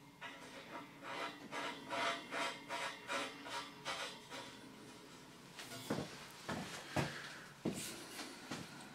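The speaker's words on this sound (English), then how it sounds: "So now at this side we'll fit the actual bleed valve itself, and again it's got a O-ring on it so we can just screw it straight in." A bleed valve with an O-ring being screwed by hand into a towel radiator: a steady run of rhythmic, close rasping turns, then a few sharper clicks and knocks of metal fittings.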